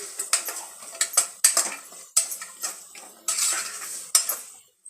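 Vegetable biryani being stirred in a metal pot, a spoon scraping and clanking against the sides in quick irregular strokes, close and clear with no talking.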